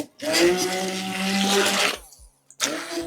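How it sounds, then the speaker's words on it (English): An immersion blender whirs loudly through cream cheese for a Danish filling, a steady motor drone lasting nearly two seconds, cutting out briefly, then starting up again near the end. "I'm going to have to just hope the immersion blender works"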